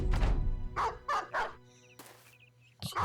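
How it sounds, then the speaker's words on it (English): Dogs bark in a quick volley of yelps and bow-wows as they charge in a Battle Brothers battle, followed by quieter game sound effects and a final short bark. "So dogs charge us."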